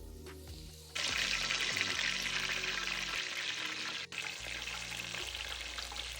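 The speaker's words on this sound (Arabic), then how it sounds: "حميت الزيت، هلا رح اقليهم" Chicken pieces dropped into hot oil burst into a loud, steady frying sizzle that holds close and continuous after a brief quieter start, with no voices.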